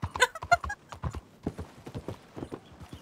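Horse hooves clop in a brisk, uneven rhythm in Red Dead Online, with a short whinny near the start, crisp and close.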